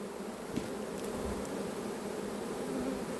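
A recovered swarm of honey bees in Varennes-sur-Seine makes a steady, dense buzzing drone that holds even throughout, close and continuous, with a few individual bees whining past and no voices.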